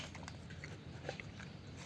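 Pet animal biting into and chewing a ripe banana, faint soft crunching and mushy bites in quick irregular bursts over a steady low background hiss.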